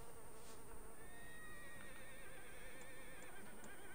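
A horse in Red Dead Redemption 2 whinnies in a long, wavering neigh over a steady outdoor ambience with a faint insect-like buzz.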